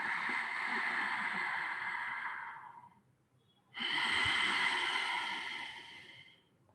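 Loud, rushing breaths during a yoga breathing exercise come through close up as two long airy strokes, each lasting about three seconds, separated by a brief quiet pause.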